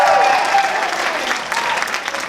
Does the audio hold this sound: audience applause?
yes